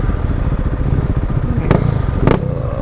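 A KTM 690 Duke R with a full Akrapovic exhaust rumbles loud and close, with a dense, steady engine note broken by two sharp bursts near the end.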